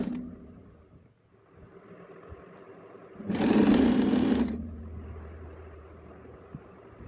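Sewing machine running through a short burst of stitching on fabric piping. A loud, rapid mechanical whir lasts about a second, with quieter handling noise before and after.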